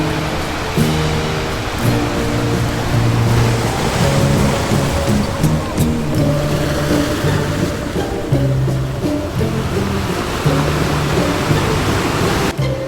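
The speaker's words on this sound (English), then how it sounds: "See about 7 beautiful waterfalls in Sinharaja rainforest." A waterfall in Sri Lanka's Sinharaja rainforest roars as a steady, loud wash of rushing water, with soft background music playing underneath throughout.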